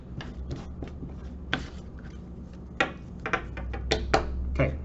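Playing cards are mixed by hand for a draw, with dry rubbing and shuffling scrapes broken by sharp flicks and slaps at irregular intervals. They sound close, over a low steady room hum.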